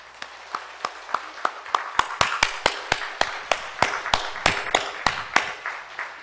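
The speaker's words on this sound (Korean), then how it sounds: "박수 한번 다시 한 번 합시다." A church congregation claps in a steady, even rhythm, each sharp clap distinct and evenly spaced over several seconds, with no talk over it.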